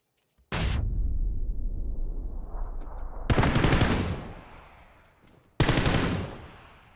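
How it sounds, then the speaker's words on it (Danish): Heavy gunfire in the video game PUBG, with three loud sustained bursts of rapid automatic fire: one long volley, a second that fades away, then a sharp final burst. "Der bliver skudt gevaldigt efter mig her."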